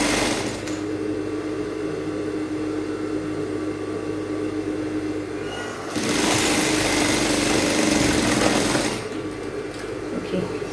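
Sewing machine running steadily along a bustier back strip, a loud continuous close-up whir that grows louder and brighter for a few seconds in the middle before settling back.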